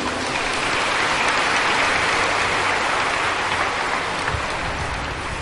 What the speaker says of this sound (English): Let us all give him a round of applause.